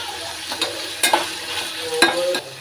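Onion stirred into fried tomato in a pan, a spoon scraping and clacking in a few distinct strokes over a steady, soft sizzle close by.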